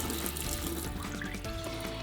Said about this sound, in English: So I'll turn my water back on.